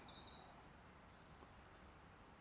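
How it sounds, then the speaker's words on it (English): Faint, high bird chirps and short whistled trills sound over a quiet graveyard background, a few calls scattered across the moment with no voices. "I am listening, but I can only hear the birds singing"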